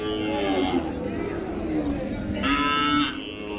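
A calf on a farm gives a couple of drawn-out moos, the second higher and more strained, heard close with other faint farmyard noise in the background.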